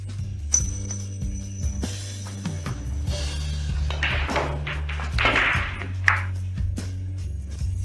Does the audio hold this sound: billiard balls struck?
yes